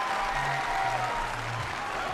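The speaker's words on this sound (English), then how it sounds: "just listen to the reaction from the crowd." Steady applause from a crowd at a gymnastics World Challenge Cup in Varna after a landing, a dense wash of clapping throughout, with faint cheering underneath.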